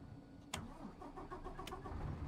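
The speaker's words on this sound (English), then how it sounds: "My time has started and you're stalling my engine?" Truck engine in American Truck Simulator cranking over and sputtering out in a stall, a low rumbling turnover with a couple of sharp clicks, fairly quiet and steady across the short stretch.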